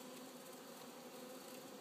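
Honey bees hum around an open hive during an apiary inspection, giving a soft, steady buzz with no pauses.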